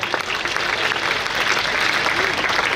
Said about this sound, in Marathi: एकदा त्यांना जोम यावा म्हणून जोरदार टाळ्या वाजवा.